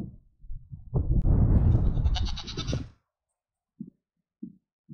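A donkey on a farm lets out one long, loud, raspy bray lasting about two seconds, calling for attention, followed by a few short faint sounds.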